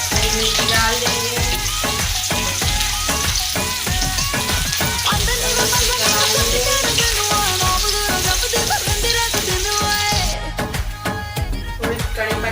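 Cumin, onion and green chilies crackle and sizzle loudly in hot oil, a busy popping spatter that runs on steadily before easing a little near the end.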